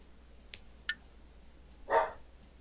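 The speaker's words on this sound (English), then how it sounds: "I gotta figure out what the dogs are barking about" Dogs bark in the distance, two short sharp yips followed by a louder, longer bark, spaced out over a quiet background.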